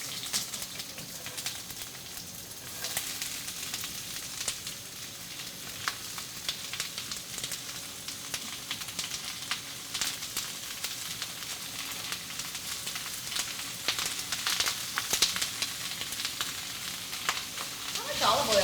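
Sausage and peppers frying in a hot pan with about a tablespoon and a half of olive oil, a steady bright sizzle and crackle with occasional stirring, close and continuous throughout.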